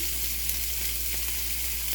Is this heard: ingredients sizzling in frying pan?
yes